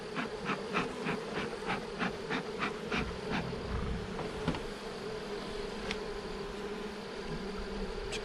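Dense, steady buzzing of many agitated honeybees at an open hive close by, with a regular series of light taps or clicks early on and a low background hum.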